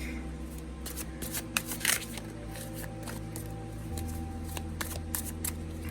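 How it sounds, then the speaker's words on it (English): A deck of oracle cards being shuffled, with quick riffling bursts over a steady low hum, fairly quiet and close by. "I would shuffle my deck."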